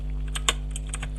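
Quick keystrokes on a computer keyboard enter a terminal command for a Tor launcher with root permission: a short run of close, crisp taps, one louder press near the middle, over a steady low electrical hum.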